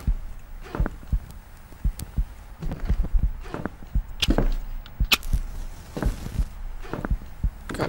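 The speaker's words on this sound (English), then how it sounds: "The heartbeat you're hearing in the game" A heartbeat sound effect in a horror video game thumps in a steady double-beat rhythm, low and muffled, with faint ambient noise beneath it.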